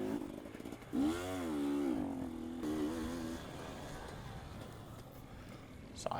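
A 4-stroke 250 dirt bike engine in a racing video game revs and whines, its pitch climbing and falling through gear changes, with a rider's voice talking over it.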